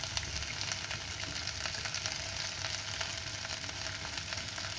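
Green chili and onion sautéing in a pan for chicken soup, a steady close sizzle and crackle of frying that runs unbroken throughout with no talking.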